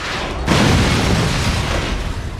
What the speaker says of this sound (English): When you hear an explosion, that might be a layer of fire, of glass, of metal